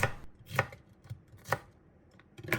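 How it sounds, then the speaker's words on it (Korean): A knife chops radish and onion on a cutting board in about four sharp, distinct strokes roughly a second apart. The chops are close but fairly quiet, with no voices. "양파 반개도 썰어주세요."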